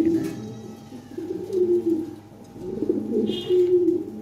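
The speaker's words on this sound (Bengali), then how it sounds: "কবুতরের অ্যাক্টিভিটিটা দেখেন।" Lahore pigeons, large show birds kept in a loft, coo in low throaty rolling phrases, two clear bouts close by with a faint chirp in the background.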